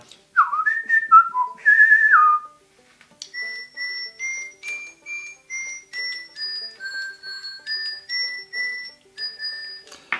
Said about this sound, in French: on peut siffler également sans la bague